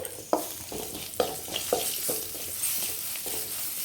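Dried red chillies and turmeric powder fry in a pan of hot oil, giving a steady sizzle with a few sharp scrapes and clicks of stirring on top.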